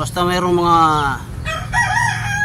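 A rooster crows loudly and close by with a long drawn-out call among many chickens on a Filipino backyard farm, followed by softer clucking, while someone speaks over it.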